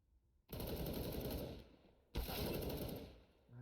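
Rapid automatic gunfire bursts in the game CS:GO during a competitive match, two loud sustained volleys separated by a short gap, with mechanical clatter and no voices.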